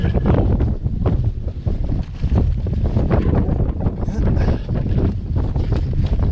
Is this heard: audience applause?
no